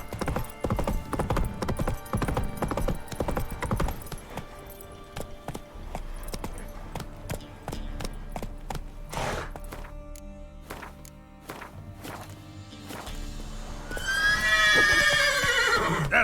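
Roach, Geralt's horse in The Witcher 3, clops along on hooves in a busy run of thuds and knocks, then lets out a loud, close whinny at the end.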